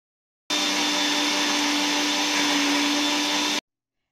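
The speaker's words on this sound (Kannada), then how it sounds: "ಹಾಗೆ ಒಂದು ಸ್ವಲ್ಪ ನೀರನ್ನ ಹಾಕ್ಬಿಟ್ಟು ಇದನ್ನೀಗ ಮಿಕ್ಸರ್ಗೆ ಹಾಕೊಳ್ತಾ ಇದ್ದೀನಿ." A mixer grinder whirs through leaves blended with a little water, a loud, steady motor whine lasting about three seconds that starts and stops abruptly, with no talking.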